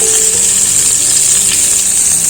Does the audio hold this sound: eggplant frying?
yes